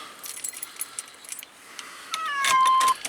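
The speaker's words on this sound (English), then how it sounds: "I got piles of cats in the Jimmy." Several cats meowing inside a GMC Jimmy, with a jangle of keys and small clatters early on, then a louder, sustained caterwaul near the end, close and unaccompanied by talk.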